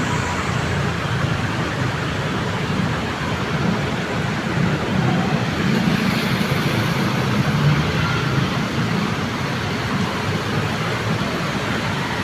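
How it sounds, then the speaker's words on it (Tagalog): Heavy rain pours down in a steady, dense roar with no letup, a continuous loud wash of water close by. "Pauwi na sana ako guys kasi lang biglang umulan."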